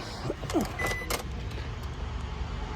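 A used car's electric window runs on its glass adjustment button, giving a short motor whir with a few clicks close by inside the vehicle, then a quiet cabin.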